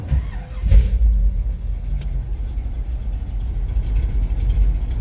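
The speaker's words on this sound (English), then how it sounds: "Let me start the truck." A Squarebody pickup truck engine cranks and catches, then settles into a steady low rumbling idle, loud and close for the rest of the clip.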